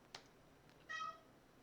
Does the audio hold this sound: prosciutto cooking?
no